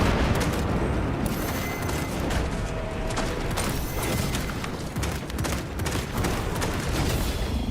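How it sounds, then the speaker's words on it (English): A crack grenade goes off in a video game amid dense, loud bursts of gunfire and booming blasts, a chaotic continuous barrage with no voices. "Using crack grenade."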